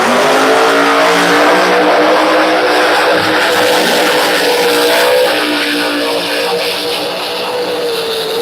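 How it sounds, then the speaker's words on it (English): A large Pro Mod drag race car, a Chevrolet Camaro, revs its engine at a winter-series event at Bradenton Motorsports Park, a loud, sustained roar that rises and wavers in pitch, then eases slightly, with no talking. "This is a huge Pro Mod."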